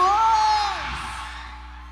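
A festival concert crowd at Narvacan Festival 2025 lets out a loud whoop that starts high and fades as a wash of cheering, mixed with a single shouted voice near the start.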